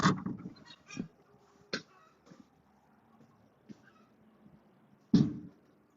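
Chickens in transport cages in a village give several scattered, fairly close squawks and clucks, loudest at the start and again near the end, over quiet background noise.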